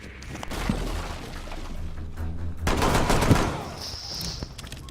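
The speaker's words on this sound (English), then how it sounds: "It sounded like a pistol." Gunfire in a Rainbow Six Siege custom game, several sharp shots and bursts over a busy, noisy background, with voices faintly underneath.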